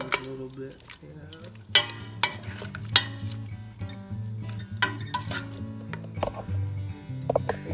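Meat browns in a pan for a chocolate curry, with a low steady sizzle under repeated scraping, stirring and clinks of a utensil against the pan, close and fairly quiet.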